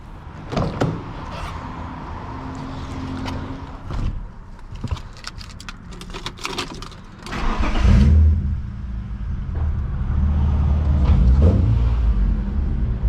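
A car door thuds shut, a few clicks and knocks follow, then a BMW M3 engine starts and idles with a deep rumble, echoing in a parking garage.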